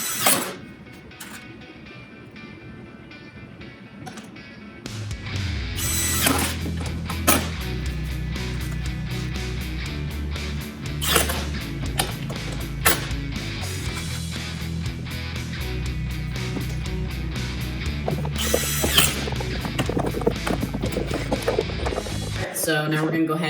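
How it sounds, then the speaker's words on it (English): A drill drives screws to fasten T-tracks into dados on a miter saw fence, with several sustained whirring bursts that rise and fall, close and loud. Someone talks over parts of it. "we're going to go ahead and screw in the T-tracks right here into the dados with these screws"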